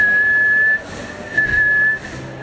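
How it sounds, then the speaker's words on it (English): A person whistles live on a radio show, a clear high sustained tone that breaks off briefly and resumes, close and fairly loud with no talking. "That's a whistle noise"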